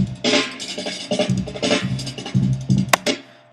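Dense electronic music from a mashup, with two identical tracks layered and one nudged slightly out of alignment so they phase against each other. It plays loud and continuous, with punchy beats and a sharp high burst near the end, and no voices.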